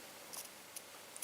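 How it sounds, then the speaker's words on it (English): Scissors snip through yarn while finishing a crochet piece, several quiet, crisp clicks spaced apart in an otherwise hushed room. "now you can cut your yarn"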